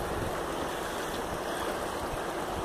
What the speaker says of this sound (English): Well, the creek's getting pretty high today.